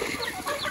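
Chickens cluck and chatter steadily in a backyard coop, a dense continuous flock murmur heard close and fairly faint with no talk over it.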